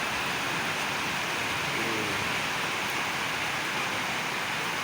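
Steady heavy rain falling outdoors during a power outage, a dense continuous hiss with no pauses, loud and close throughout.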